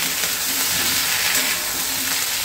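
Ginger-cumin spice paste frying in a pan for a vegetarian pui saag (Malabar spinach) dish, giving a steady, close hiss of sizzling oil with no break and no voices.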